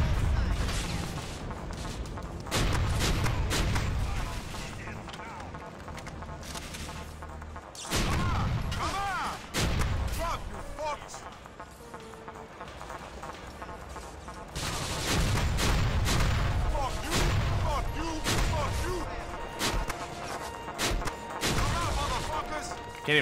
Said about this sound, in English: This goddamn explosive shotgun is so helpful.